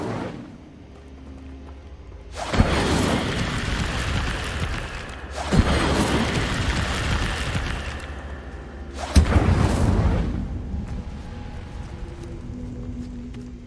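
Fire spell Incendio cast in the wizarding video game Hogwarts Legacy: three loud broadband whooshing bursts roughly three seconds apart, each flaring suddenly and fading over a couple of seconds against a low ambient background.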